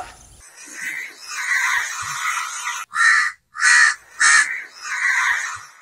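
A crow caws repeatedly outdoors, first in long hoarse calls, then in three short loud caws in quick succession, then one more drawn-out caw, close and clear.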